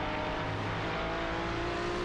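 GT3 race cars in a racing video game battle closely at Summit Point, engines droning loud and continuous at high revs with layered, overlapping engine tones and no gaps.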